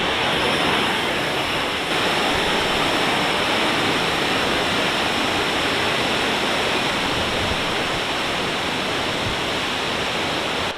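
A waterfall on a day-hike trail in Northeastern Ontario pours as a loud, unbroken roar of rushing water heard close up, with no voices.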